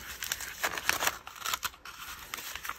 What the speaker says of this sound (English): I am going to fold, after I fold this in half, I will try to fold it into equal thirds